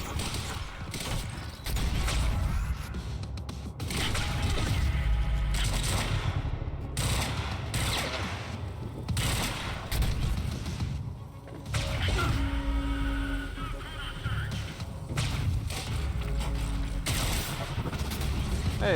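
Burst fire pistol shots in the video game Quantum Break, loud bursts of rapid gunfire mixed with mechanical clanks and booms through a dense combat scene, with a voice talking over parts of it.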